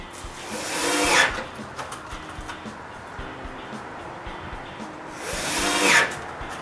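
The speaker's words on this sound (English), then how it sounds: "Then I screw the mating part of the hinge to the frame." A screw gun twice drives screws into a wooden window frame to fix a hinge part, each burst rising to a loud whine and stopping, with quiet handling noise between.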